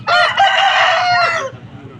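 An Aseel rooster crows once at a rooster market in Vijayawada: a loud, close, drawn-out call lasting about a second and a half, then fading into low market murmur.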